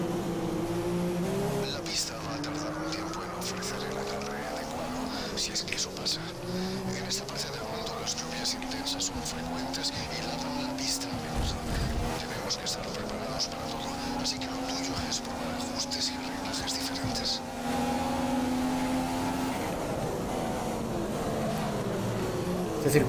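F1 race cars in the video game F1 2015 run on a cold track, one engine screaming near and steady through gear shifts with rising and falling pitch, as someone talks over it.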